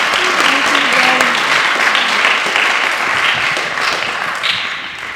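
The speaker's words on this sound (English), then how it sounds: "Can you please give our middle school ambassador a big round of applause?" A school audience at a Year 7 information evening gives a middle school ambassador a round of applause, loud dense clapping that holds steady and slowly tapers toward the end, with a brief voice at the start.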